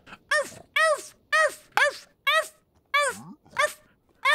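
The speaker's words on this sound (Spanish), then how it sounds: "Un perro allá abajo ladrando." Dog barking in the Minecraft video game, a series of eight evenly spaced barks with a yelping, whining tone, loud and close.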